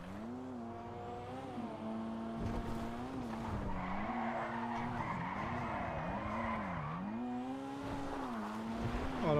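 Tires squeal and skid continuously over a steady engine drone in GTA 5 Online, the pitch wavering up and down as a Toyota Supra-style car slides through turns.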